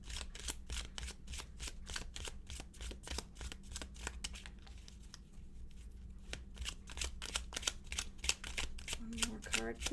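Tarot cards riffled and shuffled in a rapid run of crisp, papery flicks, close and fairly steady, with a brief pause midway and a low background hum throughout.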